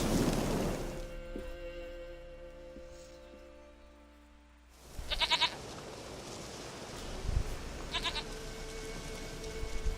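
In The Witcher 3 video game, a goat gives two short, nasal bleats a few seconds apart, mid-distance, over soft outdoor ambience after a fading musical tone.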